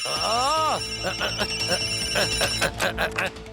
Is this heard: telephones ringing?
yes